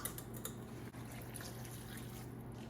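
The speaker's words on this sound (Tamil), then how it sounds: "இந்த வெஜிடபிள் குக் பண்ணுறதுக்கு தண்ணி விட்டு இருக்கிறேன்" Water poured into a pot of chopped vegetables for an Onam sadya dish, a steady soft trickle and splash running continuously at close range with no voices.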